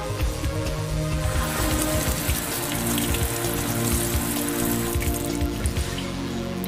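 Tap water pouring into a cup: a continuous splashing, gurgling stream with a bright, fizzy hiss, close and steady throughout, no talk.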